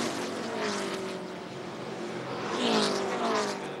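ARCA stock cars race at Rockingham in 2008 during the Carolina 500, their engines a loud, droning roar that rises and falls as cars sweep past, with a stronger pass near the end.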